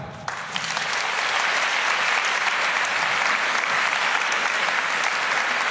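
Audience at the Livre sur la place book festival applauding writer Alain Mabanckou, starting abruptly and swelling into sustained, dense, even clapping that continues throughout.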